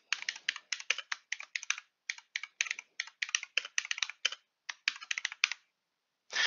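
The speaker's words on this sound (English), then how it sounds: "we're going to type our title for the paper." Typing on a computer keyboard while entering a paper title in Google Docs: a close, crisp run of rapid key clicks in quick bursts with short pauses, ending in silence, no voices.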